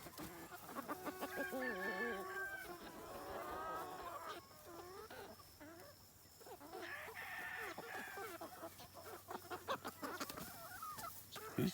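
Free-range chickens on a two-acre homestead, hens clucking and roosters crowing, a busy flock close by with repeated calls over soft outdoor background.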